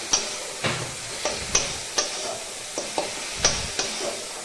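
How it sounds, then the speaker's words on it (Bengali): A spatula scrapes and stirs tomato masala paste frying in a pan for a vegetable curry, with a soft sizzle under a series of sharp, irregular knocks and scrapes, close and fairly quiet. "খন্তির সাহায্যে পেস্ট করে আমি আরও ভেজে নিচ্ছি।"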